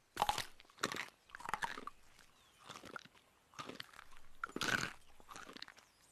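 Tree bark being chewed up close, with a series of crisp, crunchy bites and grinding chews coming in irregular bursts, fairly quiet and with no talking.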